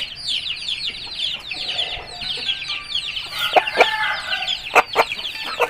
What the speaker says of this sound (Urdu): सख्त जान कंडेल मुर्गा है